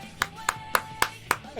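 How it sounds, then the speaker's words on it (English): A round of applause: six sharp, evenly spaced hand claps in a brisk, steady rhythm, close and clear over a faint steady hum. "Clap it! Yeah, round of applause."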